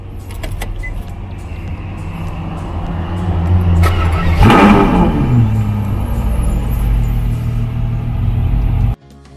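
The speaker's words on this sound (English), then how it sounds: "Let me fire it up." A sports car engine cranks and catches about halfway through with a sharp roar, then settles into a loud, steady rumbling idle that cuts off abruptly near the end.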